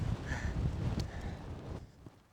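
Wind gusting across a high mountain summit in the remote Cairngorms, a steady low rumbling buffet against the microphone that eases off toward the end.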